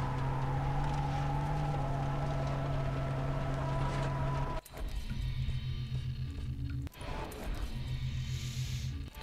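A car drives along a road in Far Cry 3, with a steady engine drone throughout and a couple of abrupt shifts in pitch partway through, moderately loud with no talk.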